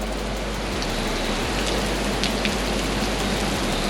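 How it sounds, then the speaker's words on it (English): Heavy rain pours in a dense, constant roar with no pauses, loud and close. "it's raining that hard."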